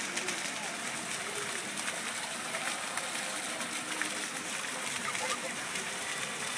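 Water from fountains splashes and sprays continuously at close range, a dense broadband wash of splatter that stays steady throughout, with a faint voice or two underneath.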